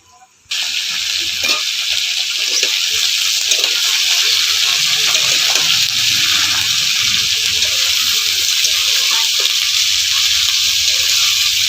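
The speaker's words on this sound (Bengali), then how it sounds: "এখানে আমি ফুলকপিটা ভাজবো তো সেই জন্য আমি রসুন আর কাঁচা লঙ্কা দিয়ে দিয়েছি" Cauliflower frying in oil with garlic and green chilli: after a brief quiet moment, a loud, steady hissing sizzle starts abruptly and holds, with faint stirring underneath.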